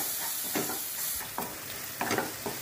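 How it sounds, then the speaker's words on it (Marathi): Finely chopped tomato and green chillies sauté in a pan for zunka, a constant hissing sizzle broken by several spatula scrapes and stirs. "यामध्ये 1 टोमॅटो बारीक चिरलेला, छान आपण थोडा वेळ परतून घेऊया।"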